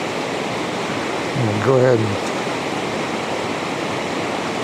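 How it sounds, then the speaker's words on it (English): Fall River rushes below a mountain viewpoint in Rocky Mountain National Park at night, a steady broadband roar of flowing water filling the whole clip, with someone briefly speaking over it. "We have the sound of the Fall River running below us."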